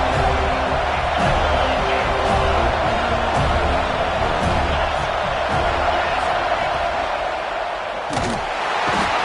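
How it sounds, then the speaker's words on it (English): A football stadium crowd at an FSU versus Texas game sends up a steady, dense roar that holds at the same level throughout, with a voice faintly under it. "This crowd rising up, sensing that its defense needs some help."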